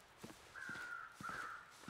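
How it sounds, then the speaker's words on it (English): Crows cawing in The Long Dark game world, two drawn-out harsh calls in succession at moderate distance, with soft crunching footsteps underneath. "So the crows were circling."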